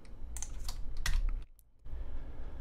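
Code being typed on a computer keyboard, quick close clusters of key clicks with a short silent gap before typing resumes.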